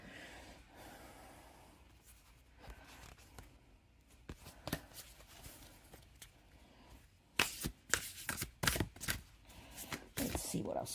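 Oracle cards being shuffled for a reading, a soft papery rustle that builds into brisk, rapid riffles and snaps near the end, close up with no talking.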